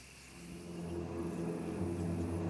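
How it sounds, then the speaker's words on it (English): An army truck drives past outdoors in rural Australia, a steady mid-pitched engine drone that swells slightly as it nears, moderately loud with no speech over it. "I've just had an army truck drive past"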